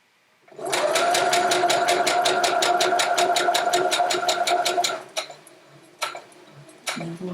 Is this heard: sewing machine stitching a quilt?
yes